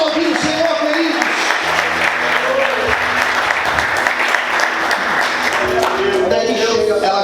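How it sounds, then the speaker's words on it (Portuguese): A church congregation applauding during a sermon, steady crowd clapping with scattered cheers and voices mixed in, fairly loud and continuous throughout. "Você pode aplaudir o Senhor"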